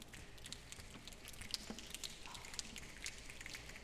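Slow, sparse patting imitates the first raindrops of a rainstorm during a church children's program, with soft, irregular taps that are faint and heard without talk.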